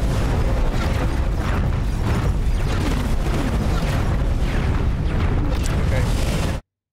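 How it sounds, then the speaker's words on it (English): Weapons fire striking a small defense module in the X4 Foundations space sim, a dense, continuous barrage of booming impacts and bursts at steady high loudness that cuts off abruptly. "There's a small defense module that somebody's shooting at."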